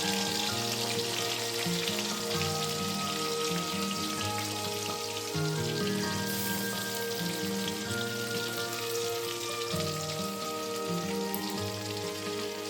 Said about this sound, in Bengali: খুব বেশি ডিপ করে ভাজবো না, কারণ চিংড়ি মাছ একটু হালকা করেই ভাজতে হয়।